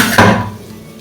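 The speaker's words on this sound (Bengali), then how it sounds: "20 মিনিট পরে আমি ঢাকনা খুললাম।" A metal lid is lifted off a cooking pot of boiled jackfruit seeds: one loud, close clank, followed by a fading ringing rattle.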